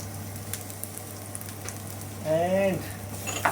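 Chopped garlic sizzles and fries in a pan with a steady soft crackle, and stirring or a voice-like tonal swell briefly rises over it toward the end; a constant low hum sits underneath.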